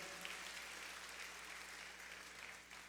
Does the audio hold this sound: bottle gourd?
no